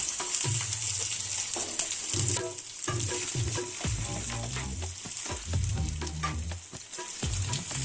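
Chopped onion fries in hot oil with dried red chillies, a continuous close sizzle broken by repeated spatula stirs and scrapes against the pan, with no voices.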